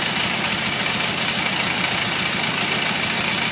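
A car engine fitted with rebuilt Stromberg carburetors idles steadily and loudly up close, a constant rough mechanical rumble with a faint pulsing rhythm and no talk.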